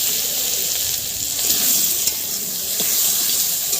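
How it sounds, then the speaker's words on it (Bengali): Potato and taro pieces fry in a little oil in a wok, producing a steady, fairly loud hissing sizzle with a few faint clinks and bubbling pops throughout and no talking. "এবারে আলু কচুগুলো ভালো করে ভেজে নেব।"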